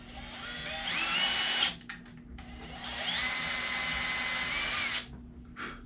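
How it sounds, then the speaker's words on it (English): A power drill drives a bit into soft wood in two sustained high-pitched whirring runs, separated by brief pauses and short stop-start bursts, fairly close with no talking. "I'll drive the drill bit down a little bit, and then I run it in reverse to start the hole."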